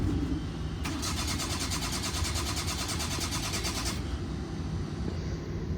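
A generator engine cranks and catches, a dense rattling chug for about three seconds over constant heavy background rumble, then settles back into the noise.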